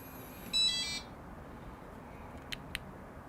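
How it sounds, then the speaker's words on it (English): An RV door lock gives a short electronic confirmation beep once, followed by two faint clicks a moment later in an otherwise quiet setting. "It's going to do a loud beep for confirmation."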